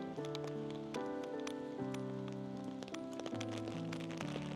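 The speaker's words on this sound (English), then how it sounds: "Rain's getting heavier." Steady heavy rain patters on surfaces along a town street at night on New Year's Eve, a soft continuous hiss of drops mixed with distant tonal music.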